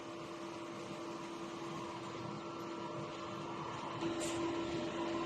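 A DTF printer runs its head cleaning cycle, giving a steady mechanical hum with a constant tone and a brief higher whir near the end.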